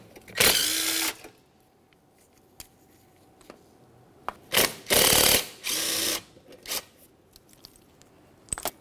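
Ratchet and power tool removing 8mm bolts from a radiator bracket on a 2002-2005 Ford Explorer, heard as several short loud whirring bursts separated by quiet gaps and brief clicks.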